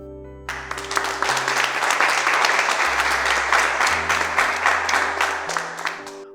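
Enthusiastic applause from a crowd celebrating Mamina reaching 100k subscribers, loud and steady throughout, with a sustained low musical tone changing pitch underneath.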